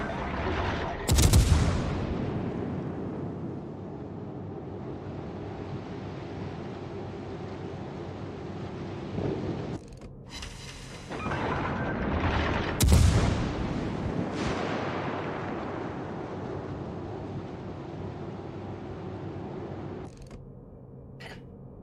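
Naval artillery from warships in World of Warships Legends sounds as several heavy booming salvos with sharp attacks and long rumbling decays over a constant low engine-like drone, loud and close.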